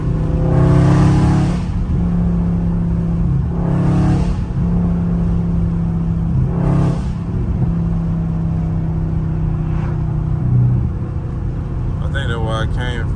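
Dodge Scat Pack car engine revving around 4,000 RPM, heard from inside during a drive, a loud deep rumbling drone with repeated surges and swells, steady and close.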